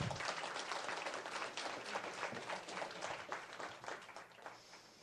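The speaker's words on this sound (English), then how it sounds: "Give her a round of applause." Applause at a school board meeting honoring a student athlete: a steady crowd of hands clapping for about five seconds, moderately distant and fading slightly toward the end, with no talk over it.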